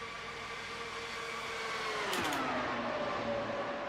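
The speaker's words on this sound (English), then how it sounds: "I love listening to these cars as they go around" Race cars circle the track in the iRacing sim racing game, giving a steady droning engine whine with a pitch shift as one passes, faint and without talk.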